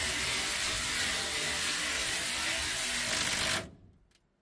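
A Freon aerosol can sprays in one steady, loud hiss for several seconds, then cuts off abruptly into quiet.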